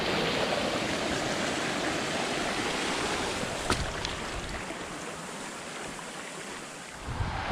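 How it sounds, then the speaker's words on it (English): Small waterfall in a cold mountain creek along the Pacific Crest Trail in California, a steady close rush of falling and splashing water with no voices, one brief sharp knock midway. "There's a little waterfall right here."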